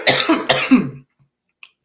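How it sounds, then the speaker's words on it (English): A single loud, close cough in two harsh bursts, followed by a short stretch of near silence and a faint click. "I did not mean to cough in y'all ear"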